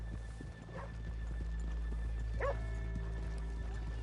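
Horses in the Red Dead Redemption 2 video game, hooves clopping in a steady rhythm on a town street, with a couple of brief whinnies and a constant low rumble underneath.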